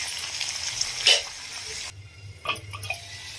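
Chopped tomato and grated carrot frying with onion in a pan for wheat rava upma, a soft steady sizzle with a few brief spatter and stirring bursts, close and moderately loud.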